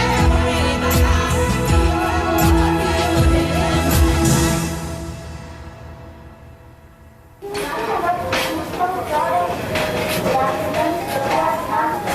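A train in southern India rumbles loudly along the tracks, wheels clattering and the carriage humming, briefly quieting before the steady rattle returns close by.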